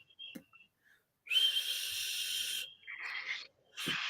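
A person tries to whistle, making a few breathy, airy tones and short hissy blows with gaps of silence between them, close and fairly quiet.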